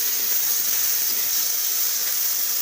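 Freshly washed moth beans roast on a hot griddle with half a spoon of oil for a home-cooked kat vada, giving a steady, even sizzling hiss with no pauses throughout.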